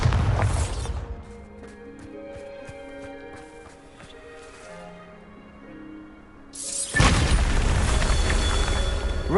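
A Bombarda spell in Hogwarts Legacy erupts in a loud, broadband explosive blast near the end, preceded by a quieter stretch of game music and earlier crackling impact noise.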